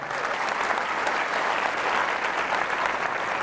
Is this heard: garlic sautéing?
no